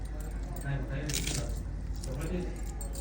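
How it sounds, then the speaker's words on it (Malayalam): Rice is mixed with curries by hand at an Onam sadya feast in a hotel in Attingal, making soft close squelching and squishing sounds over a busy background hum, with a few faint clinks. "ചോറിനോട് വെച്ച് മിക്സ് ആട്ടെ"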